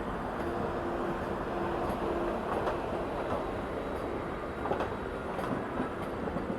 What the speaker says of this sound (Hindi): एक्सेलरेशन देखिए आप वंदे भारत का।